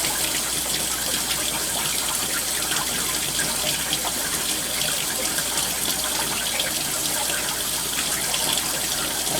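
Back panning gravel concentrates in water with a gold pan while placer mining on an inside river bend, a continuous close wash and slosh of swirling water and fine grit.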